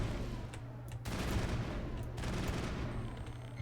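Gunfire in the Mass Effect video game, bursts of fusillade-like shots with a low hum underneath, moderately quiet and steady across the clip.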